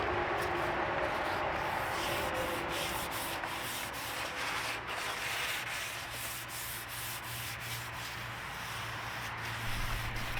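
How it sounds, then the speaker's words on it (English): Hand sanding of primer on a VW bus body panel, a continuous gritty rubbing rasp with brief rhythmic strokes, close and steady throughout with no talking. "The orbital sander ended up being a little bit rough for the primer, so I opted for hand sanding."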